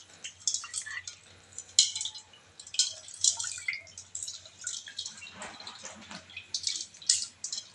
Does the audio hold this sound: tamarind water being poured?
yes